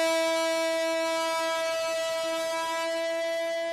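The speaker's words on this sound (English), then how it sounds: "The train goes back the way it came from the Estación de Salta." A train departing back toward Salta station in Argentina sounds a long, steady horn. The single tone is held without a break and stays loud and close, with no voices.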